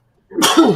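One loud, close sneeze bursts out of silence, a sharp breathy explosion with a short voiced tail.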